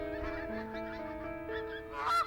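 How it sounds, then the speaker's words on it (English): Pink-footed geese honking repeatedly as they fly over in formation, a steady chorus of calls with a louder burst near the end. "Pink-footed geese fly over in formation."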